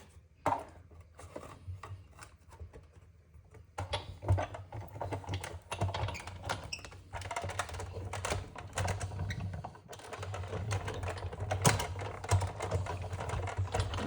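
Paper is cut for a scrapbook journal with rapid, repeated cutting strokes that form a busy tapping texture, close and fairly quiet, with brief pauses.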